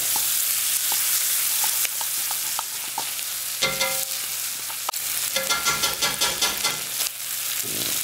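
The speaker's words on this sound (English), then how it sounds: "Flip that brisket over. Get a little sear on the other edge." Brisket sears in a pot, a steady loud sizzle with stirring and scraping bursts running the whole time, no voices.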